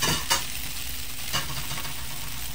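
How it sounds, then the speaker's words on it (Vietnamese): Seasoned vegan bao filling is stirred in a hot pan, with a steady sizzle and a couple of distinct scraping stirs near the start and middle, close up and without talk. "Bỏ nêm nếm mình khuấy vài cái xong rồi mình bỏ hành tây bỏ vô luôn."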